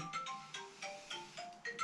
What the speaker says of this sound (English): wife's ringing.